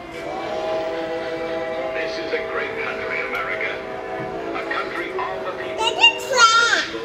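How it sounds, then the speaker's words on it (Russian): A children's railway train at the Omaha train museum arrives and pulls away, a steady tonal hum and rumble of moderate loudness, with brighter whistle-like tones and children's voices rising near the end. "Поезд приехал и поехал дальше."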